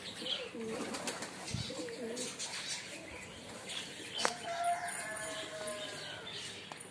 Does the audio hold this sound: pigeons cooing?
yes